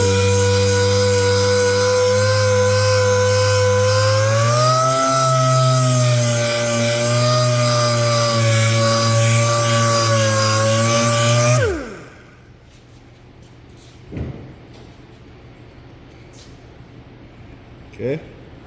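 A power sander or polisher grinds steadily against a clear-coat finish to level runs and mistakes, with a loud sustained whine that wavers in pitch, then cuts off abruptly and leaves quiet room tone with a couple of faint knocks.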